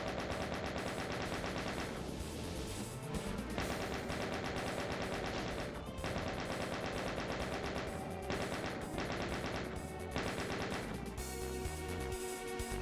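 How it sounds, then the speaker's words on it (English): Rapid machine-gun bursts from an automated turret in the video game Doom pound continuously and loudly, with dense overlapping gunfire and crashing impacts and no pauses. "That turret is working."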